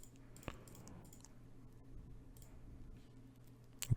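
A few soft computer keyboard taps and mouse clicks while entering a fake sign-in, sparse and quiet against a faint background hum, with a sharper click near the end.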